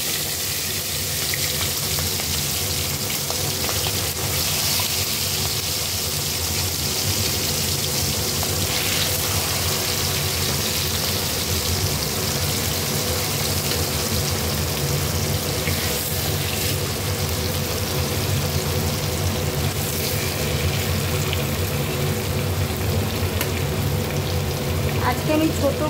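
Hilsa fish frying in hot mustard oil seasoned with black cumin seeds, a steady, dense sizzle that holds loud and even throughout, close by and without letup.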